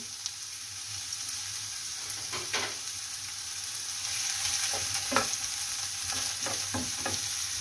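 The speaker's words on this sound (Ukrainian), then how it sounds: "Поставили сковородочку, наляли трошки оливки і обжарюємо цибульку." Onion frying in a little olive oil in a pan: a steady close sizzle throughout, with occasional scraping stirs of a utensil against the pan.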